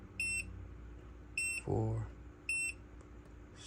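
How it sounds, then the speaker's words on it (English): A gun safe's fingerprint reader gives short, bright electronic beeps in a steady series, three spaced pulses spread evenly with a brief low thump between them, close and clear in a quiet room. "You'll hear those 2 beeps"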